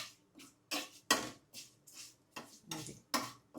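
Cabbage curry ingredients frying in a pan, giving a series of about nine bright, hissing bursts with clinks, separated by short quieter gaps. Each burst is loud and close, and no voices are heard.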